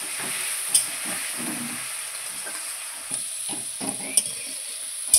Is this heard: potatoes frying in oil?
yes